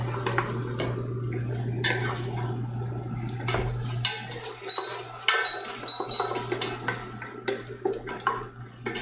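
A spoon stirs garlic in a pan of spaghetti sauce with steady scraping and clinking, nearby, over a low hum that drops out partway through, with the stirring growing busier toward the end.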